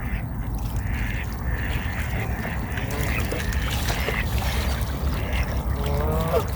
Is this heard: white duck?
yes